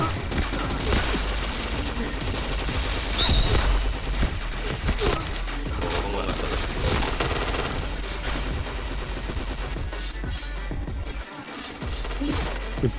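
Rapid gunfire in a shooting video game, dense bursts of automatic fire and single shots crackling loudly and continuously, with occasional crashes and booms layered in.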